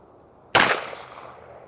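One sharp pistol shot from a custom 2011 handgun, a sudden loud crack with a short reverberant decay, close and alone.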